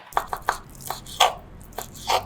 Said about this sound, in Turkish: incirleri doğrayalım